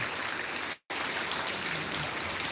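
Heavy rain pours steadily in Dera village, a dense, loud, even hiss of falling water that drops out for a moment before resuming.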